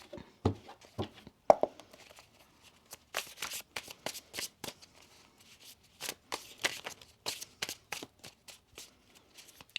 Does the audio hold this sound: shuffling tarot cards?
yes